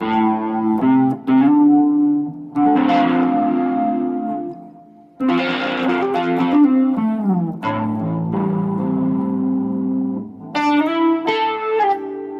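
An electric guitar riff, heavy with distortion and echo, with chords and single notes ringing out loudly in bursts and short gaps between phrases.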